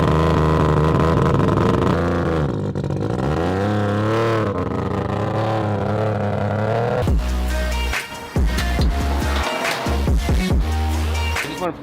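A turbocharged three-rotor engine in a Mazda RX-7 revs loudly and repeatedly, with rising and falling pitch sweeps through the first half, then sharp choppy bursts and cut-offs of the rotary engine as it is blipped.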